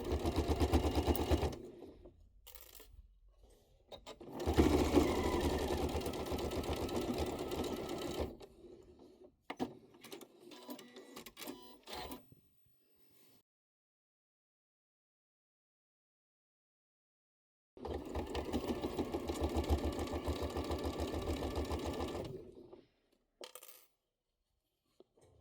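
A sewing machine topstitches the short sides of a hoodie in several steady runs of fast, close stitching, separated by pauses, short bursts and a long stretch of silence.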